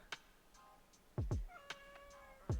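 A cat meows softly several times in short, separate calls, with a few faint clicks between them, heard quietly indoors without talking.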